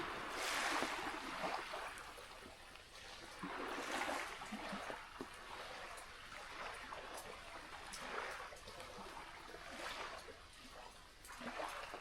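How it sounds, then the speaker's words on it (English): Water from a passing boat's wake laps and splashes softly in uneven surges, faint and a little distant, with a gentle wash rising and falling. "A boat went past, so we've got some waves."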